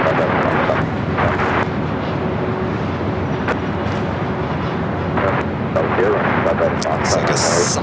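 A Volaris Airbus A320neo jet airliner arriving at LAX makes a loud, continuous rumbling engine roar, with someone talking over it throughout.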